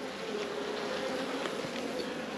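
Honey bees buzz steadily and densely around an opened two-box hive as a heavy frame of nectar and partly capped honey is lifted out, a close, continuous droning hum with no talking.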